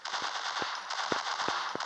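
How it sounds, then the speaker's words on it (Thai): Rapid bursts of automatic gunfire in a commando-style combat video game, several loud sharp shots spaced irregularly over a steady whooshing background of game noise, with no talking. "อ้ยเสียงปืนนี้โคตรหนักนะครับผม"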